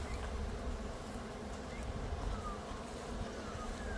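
Bees hum in a low, continuous buzz around the listener, with occasional individual insects droning past close by.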